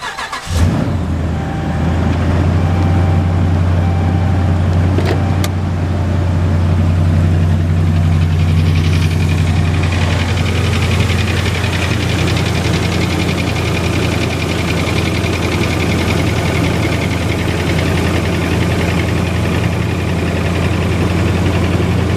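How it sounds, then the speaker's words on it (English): A 2012 Ram 1500 Laramie Longhorn pickup with a 5.7-liter HEMI V8 starts with a sharp crank, then settles into a loud, steady rumbling idle, close and alone throughout. "This truck is a little loud on startup until it gets a little warm and it quiets down."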